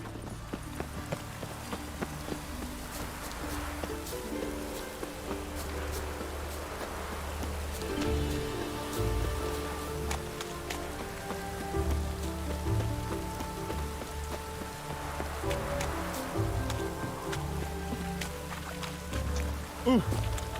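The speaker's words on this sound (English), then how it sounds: "Geralt, No use doing any work in this rain." Rain falling steadily in The Witcher 3, a soft continuous patter mixed with horse hooves clip-clopping and game music underneath.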